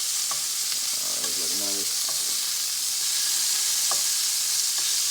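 Sea scallops searing in a hot pan make a continuous close sizzle and hiss, with a short remark spoken over the frying.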